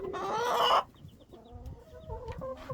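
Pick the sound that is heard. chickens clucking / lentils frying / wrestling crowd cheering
chickens clucking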